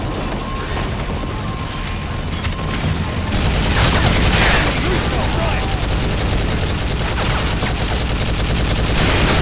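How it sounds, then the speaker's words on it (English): Heavy sustained gunfire and explosions from a .50 caliber machine gun laying down cover fire in the Call of Duty Modern Warfare 3 campaign, loud and continuous with booming impacts, quieter for the first few seconds then intensifying. "man the 50 cal and lay down cover fire!"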